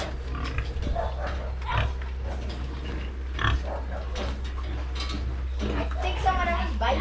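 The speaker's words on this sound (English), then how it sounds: "Oh God, look at the pigs." Pigs on a farm grunt and snuffle in a steady chorus close by, low repeated oinks layered over a constant hum, while people talk nearby.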